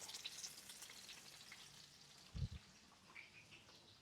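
Thin slices frying in a skillet with very little oil give a steady, quiet sizzle and crackle, with one brief thump partway through and no talk.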